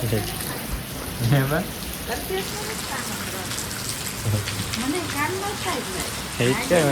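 Rain pours down in a village, a steady hiss of drops on surfaces with splashing, while people talk intermittently over the downpour.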